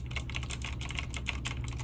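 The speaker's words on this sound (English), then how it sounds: "I got this random Razer keyboard." Rapid, steady typing on a Razer computer keyboard, a busy stream of close, crisp key clicks over a constant low hum.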